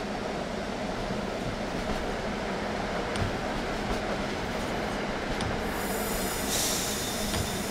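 A diesel railcar runs in a train simulator game, giving a steady, loud, continuous rumble and wheel noise with faint clicks, and a brighter hiss rising near the end, with no talking.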